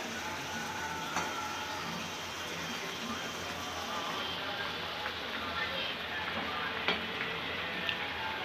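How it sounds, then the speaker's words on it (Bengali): Pabda fish mustard curry with vegetable stalks stirred in a pan on a gas stove, a soft steady sizzle and bubbling with faint scrapes of the spoon, heard fairly quietly throughout. "এবার আমি ঝোলটা আরেকটু নেড়ে নেব"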